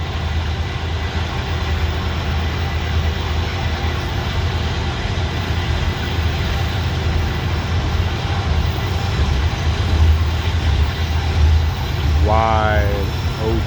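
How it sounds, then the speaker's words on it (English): CSX diesel locomotives hauling a loaded coal train labor up Parrs Ridge near Bartholows, Maryland, in notch 8, a loud steady low engine drone with rail rumble throughout; a brief voice cuts in near the end. "Some diesel engines and notch 8."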